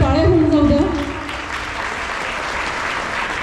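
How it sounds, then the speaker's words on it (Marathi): Audience applause at a Saraswati Puja kirtan gathering, a steady wash of clapping through the whole stretch, loudest at the start, with a voice speaking briefly over the beginning. "जोरदार टाळ्या होऊन जाऊ द्या."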